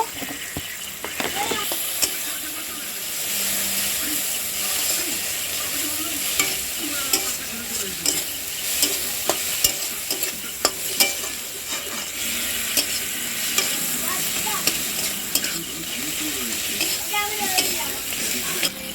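Chili, cumin and turmeric powder fry in a pan, with a continuous loud sizzle and repeated scraping strokes of a spatula stirring through the spices for an extended stretch.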